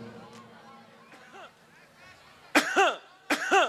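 Two sharp coughing bursts at a henna night celebration, the second following shortly after the first, loud and close. They come after a stretch of quieter mixed voices and chatter.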